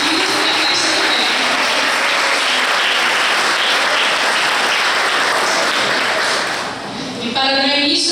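An audience applauds at a wedding vow renewal party, dense sustained clapping filling the room loudly for several seconds before tapering slightly near the end.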